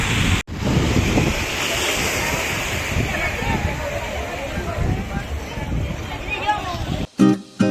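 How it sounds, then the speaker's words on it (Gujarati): Sea surf at the Gomti river mouth in Dwarka, where the river meets the sea: a steady, loud wash of waves with heavy wind buffeting on the microphone throughout and a sharp gust near the end. "નદીનું મીઠું પાણી અને ખારો દરિયો બે ભેગો થઈ જાય છે સમુદ્ર"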